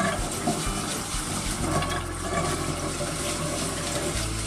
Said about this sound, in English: I'll turn on the water, get it nice and warm.